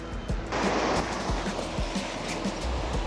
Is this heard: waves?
yes